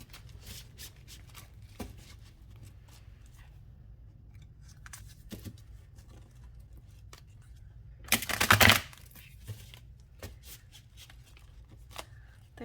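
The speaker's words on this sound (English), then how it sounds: "let's give it a good shuffle" Tarot cards shuffled in one quick riffle-like burst of crisp flapping, heard once about two-thirds through, with faint handling rustles and light taps scattered around it in a quiet room.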